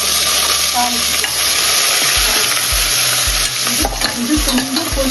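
Cinnamon, cloves, fennel, curry leaves and chopped onion sizzle loudly in a hot pan for a tempering, while a spoon scrapes and stirs in a steady, close rhythm, with no talking.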